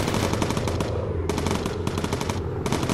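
Rapid machine-gun fire in the WWII bomber game Bomber Crew, from an enemy gun aimed upward, loud, continuous bursts of chattering shots filling the whole stretch with brief gaps between volleys.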